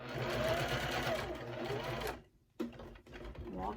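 A home sewing machine stitching fabric, its rapid mechanical rattle running steadily and close, then stopping briefly and restarting in short bursts.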